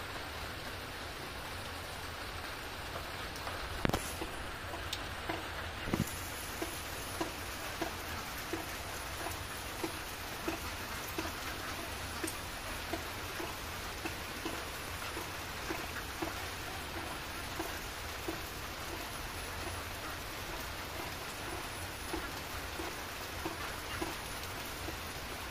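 Steady rain falls on a village duck pond, a dense even patter across the whole stretch with a few sharper drops and thumps standing out close by.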